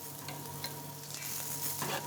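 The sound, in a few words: porcini mushrooms frying in duck fat in a pan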